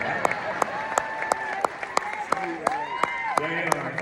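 An audience claps in scattered, steady beats while someone talks over the applause at a live event.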